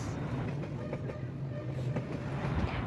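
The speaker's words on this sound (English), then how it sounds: "As the train is arriving, stay alert and listen for warning signals." A train arrives along Hanoi's Train Street, rumbling steadily nearby with a low, continuous roar and faint rhythmic clacking of wheels on the rails.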